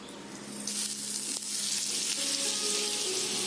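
Two teaspoons of oil go into a hot pan while making pav bhaji, and a loud, close sizzle swells up and then holds steady, with faint clinks of utensils in the background.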